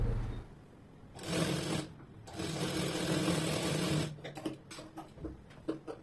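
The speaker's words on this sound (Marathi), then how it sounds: "हे बघा, ह्याप्रमाणे ती मध्ये फोल्ड करून पुन्हा एक शिलाई मारून घेऊ" Domestic sewing machine stitching a folded strip on a blouse back neck, running in two long steady bursts of whirring with short pauses between, then lighter intermittent clicks and handling noises near the end.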